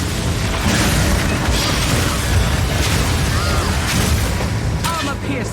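Incendiary bolts firing and exploding in Path of Exile 2, a dense, loud stretch of booming blasts and bursts layered over one another, with a few brighter crackles near the end.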